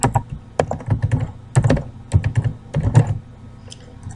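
Quick, uneven typing on a computer keyboard while a folder name is entered, with dense bursts of crisp key clicks and a few pauses between them.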